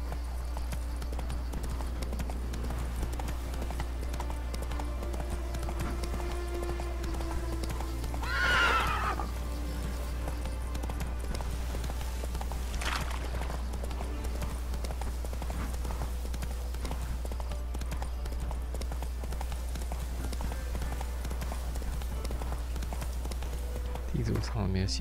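Hooves of Roach, the horse in the video game The Witcher 3, clip-clop in a steady trot beneath game music and ambience, broken by a loud neigh partway through and a second fainter whinny later.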